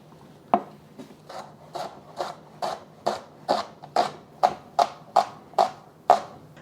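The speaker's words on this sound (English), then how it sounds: "I am cutting up 1 shallot." A knife slicing a shallot into strips on a cutting board, about a dozen crisp, evenly spaced chops in a steady rhythm, close and clear with no talk.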